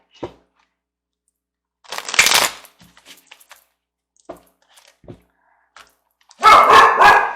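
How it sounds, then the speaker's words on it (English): A dog barks in loud, sharp bursts separated by quiet gaps, with a couple of softer yips and small clicks in between. "Stop barking at everything."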